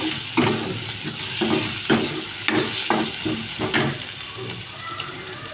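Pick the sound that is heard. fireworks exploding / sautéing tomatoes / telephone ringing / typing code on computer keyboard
sautéing tomatoes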